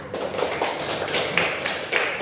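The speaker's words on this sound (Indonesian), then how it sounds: "Beri tepuk tangan untuk Diva." A classroom full of students applauds a classmate with steady, fairly loud clapping that runs throughout, a dense crackle of many hands with a few sharper claps standing out.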